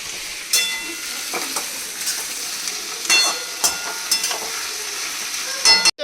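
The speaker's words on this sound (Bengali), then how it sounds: "এই পেঁয়াজ ভাজছি" Onions, and some potato, frying in a home kitchen pan for a mutton curry, giving a steady close sizzle broken by several sharp scraping stirs of a spatula, with no talking.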